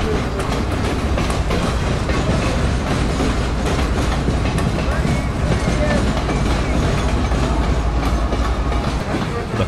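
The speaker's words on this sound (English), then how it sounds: "The cars keep coming on this monster train." Long freight train rolling across the rail diamond at Cordele, Georgia at about 25 mph, a loud, continuous rumble with steady clickety-clack of wheels over the crossing, close by with no pause throughout.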